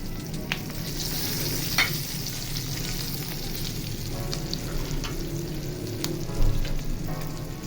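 Bell peppers frying in hot oil for achari dal, with a steady close sizzle and crackle, a few sharp pops and a brief louder spatter near the end.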